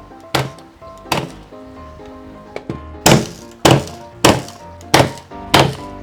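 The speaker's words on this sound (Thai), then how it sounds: "เดี๋ยวเราก็จะทำการยิงตะปูเข้าไปตรงนี้นะครับ" A nail gun drives nails into a pine wood shelf for a paper organizer cupboard, firing eight sharp, loud thunks, spaced unevenly at first and then at a steady rhythm about every half second.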